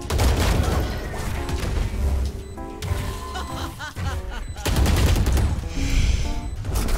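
Bursts of gunfire and impacts in the VALORANT video game, rapid shots and booms in clusters, loud, with faint voices and a snicker mixed in.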